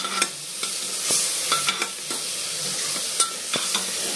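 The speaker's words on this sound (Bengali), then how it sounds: "এবার একটু নেড়ে নেব" Dalia with vegetables, salt and sugar is stirred in a pot over gentle sizzling, with sharp, close spoon knocks and scrapes at irregular intervals.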